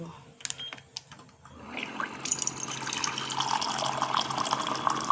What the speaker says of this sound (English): And then we'll just add another boiled water.